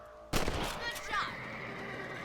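A single loud rifle shot rings out in a Red Dead Redemption Western shootout, a sharp broadband crack followed by a decaying tail, with game ambience and a brief voice behind it.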